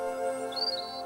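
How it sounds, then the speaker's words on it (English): A brief, faint chirp of a bird in an urban forest rises thinly over a steady background hum, a single short call with nothing else prominent. "Listen and hear the call of a bird."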